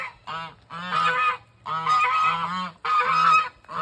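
Geese on a homestead honking in loud, close, repeated nasal calls, several drawn-out honks in bursts with short gaps between them.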